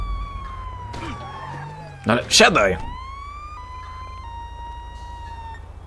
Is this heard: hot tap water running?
no